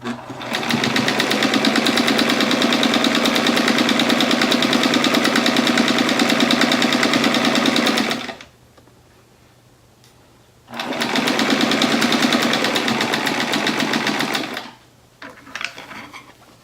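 A sewing machine stitches along the raw edges of a quilt in two long, steady bursts of rapid mechanical whirring, close and loud, separated by a brief quiet pause.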